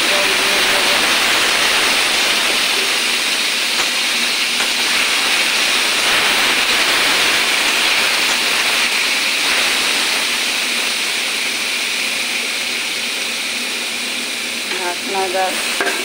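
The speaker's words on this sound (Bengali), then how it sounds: "অল্প করে জল দিয়ে দেব।" Water hits a pan of frying cabbage, potato and tomato, setting off a loud, continuous rushing sizzle and steam hiss that stays dense for the whole stretch and eases slightly near the end.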